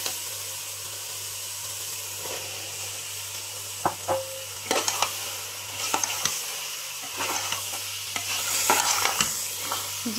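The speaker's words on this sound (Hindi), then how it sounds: "ये देखिए मटर को 5 मिनट हमने फ्राई कर लिया है। अब हम इसमें गाजर को ऐड कर देंगे।" Peas and carrots stir-fried in a pan in a home kitchen, a steady sizzle and hiss with repeated scraping stir strokes that grow busier toward the end, close and fairly loud, without voices.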